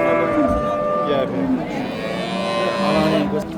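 A cow moos at a busy livestock market where dairy cows are traded. Its long low calls come close and loud against the crowd, and people talk nearby.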